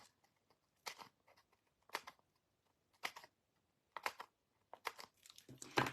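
Scissors snip through cardstock edge pieces left over from a Christmas card kit, making a series of quiet, irregular crisp cuts and paper rustles, close by with no talking.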